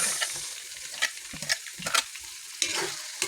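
Garlic sizzles in hot oil in a pan, a bright crackling fry broken by the scrape and clatter of stirring, close and alone for a few seconds.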